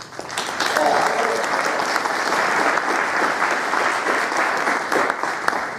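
An audience applauds after a lecture, with dense, sustained clapping from a crowd in a hall that swells quickly and holds steady, while a voice speaks briefly over it.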